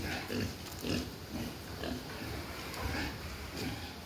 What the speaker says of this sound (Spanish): Los puercos.